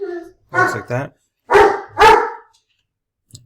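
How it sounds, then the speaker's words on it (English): A dog barks several times in a room where someone is assembling a Lego Piranha Plant set. The barks come as short, close, loud yelps, in pairs and singles, with a brief spoken phrase mixed in. "Sorry about the dog. I'm trying to get him to stop,"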